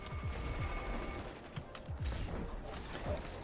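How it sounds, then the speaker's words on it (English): Turrets fire in the Destiny 2 Iron Banner match as a rapid series of short mechanical thumps and clicks, moderately quiet and irregular in rhythm, over a faint steady game hum with no talking. "That's the sound of the turrets."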